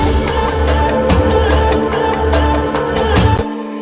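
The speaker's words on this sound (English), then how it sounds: "Then you have this percussion loop" Unprocessed percussion loop from the Ivory sample pack, a dense, busy groove of layered hits with a steady low end that plays continuously and loud, then cuts off abruptly near the end.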